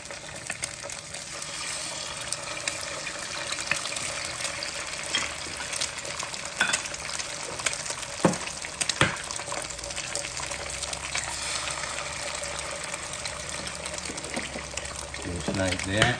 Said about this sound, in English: this vegetable oil look like it's pretty much hot. So what I'm gonna do, I'm just gonna crack my eggs and put them in.